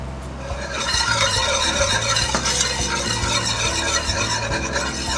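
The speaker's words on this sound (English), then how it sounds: "put it on low, don't burn it, keep on whisking it." A whisk scrapes steadily through flour in a pan over low heat, a continuous close rasping stir with faint sizzle underneath.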